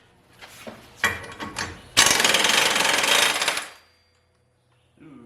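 Close by, a power tool fitted with a 24mm socket works a bolt loose on a truck or tractor underside: a few short stuttering bursts, then a loud continuous rattling impact run of about two seconds before it stops abruptly.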